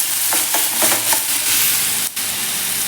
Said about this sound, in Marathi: आता आपण यामध्ये हे टोमॅटो कट करून घेतलेले आहेत ते आपण घालून घेऊया यामध्ये हे दोन्ही देखील व्यवस्थित आपण छान परतून घ्यायचे आहे